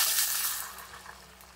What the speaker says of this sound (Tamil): இப்போ காய் வேகிற அளவுக்கு கொஞ்சம் தண்ணி ஊற்றிடலாம்.